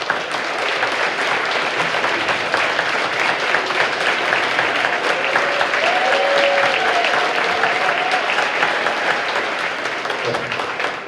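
An audience at a high school jazz concert applauds steadily for the sponsors, a dense and sustained clapping with a few scattered cheers.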